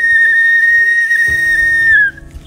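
A steady, high whistle calling a Mauritius kestrel holds one long note for about two seconds, with quieter background sounds and murmuring beneath it.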